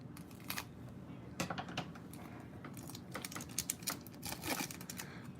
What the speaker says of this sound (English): All right, so I'm gonna use the scissors on these.